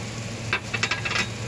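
Ground garam masala stirred into hot frying oil in a pan for a drumstick milk curry, a low steady sizzle with a few quick scraping stirs up close, no talking.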